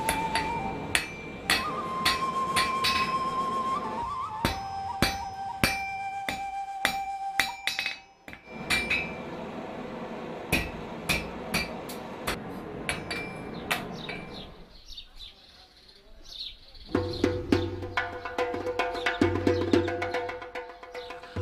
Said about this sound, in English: The blacksmith does not put down his hammer until the iron is subdued and taken the